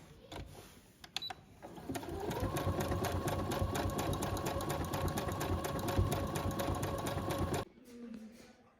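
A Brother sewing machine stitching double-needle embroidery runs in a steady, rapid mechanical whir for several seconds after a few brief starting clicks, then stops abruptly near the end.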